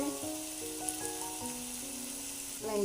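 Asafoetida going into a pot of pumpkin and fenugreek-leaf dal, giving a steady soft sizzle close by with a louder burst of frying near the end.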